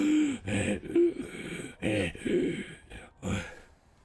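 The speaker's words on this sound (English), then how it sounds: "You can just hear me breathing so heavily" A person breathes heavily while climbing stairs, making a series of loud, close gasps and exhalations in uneven bursts, with a few voiced, strained sounds between them.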